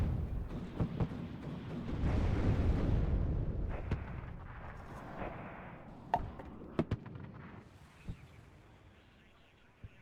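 Artillery shells land in the Cold War strategy game Warno, a heavy rumbling barrage swelling early, then scattered sharp explosive cracks and thuds at irregular intervals, fading toward the end.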